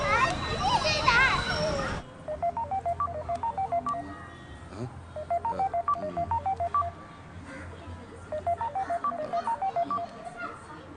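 Telephone keypad tones from a film scene: three quick runs of DTMF beeps as a number is punched in, each burst a rapid string of even tones, following a moment of busy background noise.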